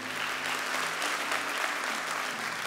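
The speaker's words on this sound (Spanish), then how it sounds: "Con dudas muchos aplaudieron." Steady, dense audience applause at a church sermon, loud and continuous throughout with no talk over it.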